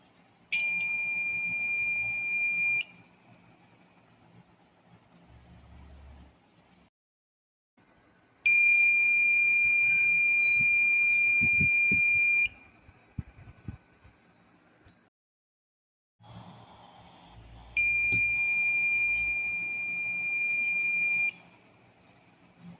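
An Arduino-controlled buzzer on an RP2350 board gives three steady, piercing electronic tones, each lasting a few seconds with pauses between them, loud and close over faint background noise.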